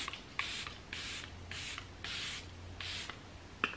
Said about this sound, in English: another product that I'm currently obsessed with, guys, is the Charlotte Tilbury Setting Spray.